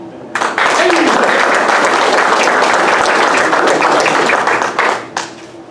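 A crowd applauds at an Air Force graduation ceremony, loud sustained clapping that swells in quickly, holds steady for several seconds, then tapers off near the end.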